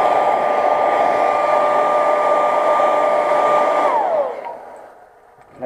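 A heat gun heat-setting paint on a fishing lure, blowing a loud, steady whirring hiss with a tonal hum, then winding down and falling quiet near the end.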